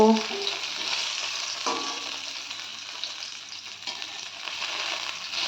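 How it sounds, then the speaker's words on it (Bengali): Hilsa fish fries in hot oil, turned until reddish, producing a loud, steady, close sizzle with a couple of faint clinks from a utensil. "মাছটা কিন্তু আমি লাল লাল করে উল্টে পাল্টে খুব ভালোভাবে ভেজে নিয়েছি"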